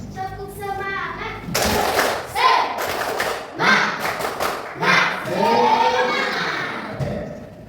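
A class of sixth-grade children claps the rhythmic spirit clap, tepuk semangat, in bursts of loud, patterned claps mixed with children's chanting voices, close by in a classroom.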